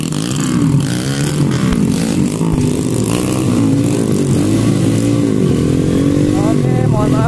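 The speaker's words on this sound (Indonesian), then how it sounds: "mohon maaf jika noise ya. Kebetulan ini knalpotnya pada rada-rada barbar." A petrol motorcycle with a loud, aggressive aftermarket exhaust revs and roars continuously at close range on a red-dirt trail ride. The engine note rises and falls, with people talking over it.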